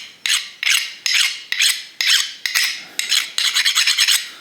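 A hand file rasps across a hardened, quenched metal bushing in about nine loud, regular strokes. The last strokes come quicker and shorter, and no one talks.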